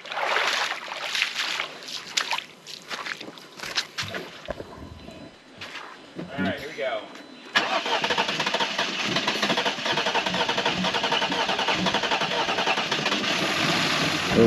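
A Jeep Wrangler stuck in Richloam, Florida cranks in rough, uneven bursts, then catches and settles into a steady, loud running engine noise.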